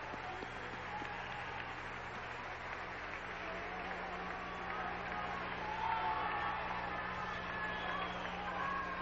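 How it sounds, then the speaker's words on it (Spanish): Audience applause in a large hall at the Miss Universe 1992 pageant in Mexico, honouring the judges: a steady, broad wash of clapping with crowd murmur, swelling slightly toward the end. "Pido un fuerte aplauso para ellos."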